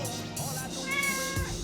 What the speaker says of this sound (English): Hi, kitty cat.